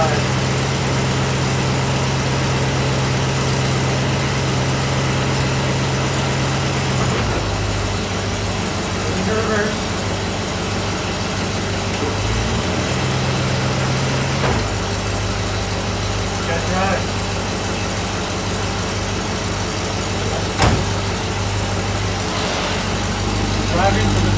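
A Pontiac LeMans engine idles steadily close by, its low running note shifting in pitch and load a few times as the transmission is put into reverse and drive, with a few faint clicks over the continuous rumble.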